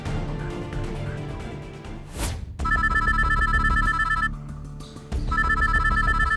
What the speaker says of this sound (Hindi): संजय का फोन बज रहा है